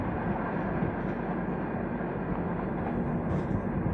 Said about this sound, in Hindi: गाइस ये थी हमारी छत्तीसगढ़ एक्सप्रेस